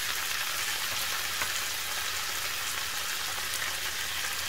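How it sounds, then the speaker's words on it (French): Diced tomatoes hit a pan of frying merguez sausages, giving a dense, steady hiss and sizzle that stays loud and even throughout, with no voices. "je verse mes tomates coupées en cubes"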